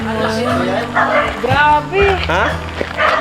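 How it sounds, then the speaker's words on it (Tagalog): Several dogs bark and yip close by at a rural hut, loud overlapping barks and whimpers mixed with excited talk from people nearby. "Dito na yung mga aso. Nagsisitahulan."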